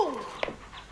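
A dog gives a brief, high whimper, a thin falling whine followed by a short yelp, faint and close.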